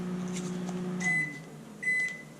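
A microwave oven warming water hums steadily, then the hum cuts off and two electronic beeps follow.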